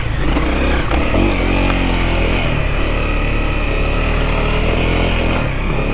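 A dirt bike climbs a trail section in first gear in Wayne National Forest, its engine droning steadily and loudly close by, with a continuous rough mid-pitched buzz throughout.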